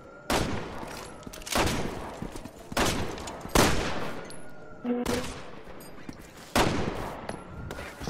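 Gunfire in Resident Evil 6 at an outdoor market with zombie chickens, six loud separate shots spaced roughly a second apart, each with a sharp crack and short decaying tail over faint game ambience.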